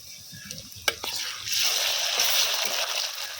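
Ginger garlic paste hitting a pan of fried onions, a brief clatter and knock followed by a steady, loud, broad sizzle that swells and holds close up, with no talk.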